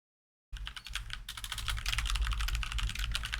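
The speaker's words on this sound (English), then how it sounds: "Enjoy the soothing sounds of keyboard." Rapid, steady typing on a computer keyboard, close and fairly loud, starting after a brief silence and continuing without pause; no voices.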